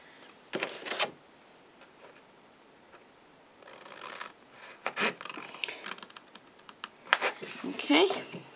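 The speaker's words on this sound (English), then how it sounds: "you want to cut up this side of that" Card being cut by hand to make a fold-flat box, a few scattered close snips and scrapes with quiet gaps between them and a brief voice near the end.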